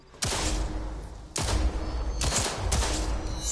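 Gunfire at a shooting range in Cyberpunk 2077: a few loud, close bursts of rapid shots with sharp onsets, separated by brief pauses, alone without talk.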